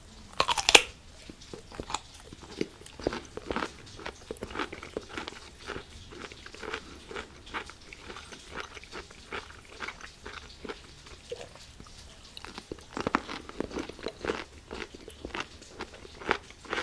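Food eaten by hand, chewed and crunched close up in a steady stream of crisp bites and wet mastication, fairly loud with no talking.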